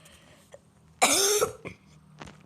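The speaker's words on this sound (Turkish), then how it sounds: "Arkadaşlar biraz hastayım da öksürebilirim haberiniz olsun." A single sharp cough bursts out close by, followed by a smaller throat sound, against an otherwise quiet background.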